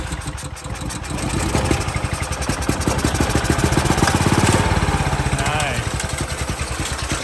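A boosted EZGO golf cart engine, freshly reassembled with a fixed clutch, catches and runs with a steady pulsing putter that rises in pace, loud and close, with brief speech over it.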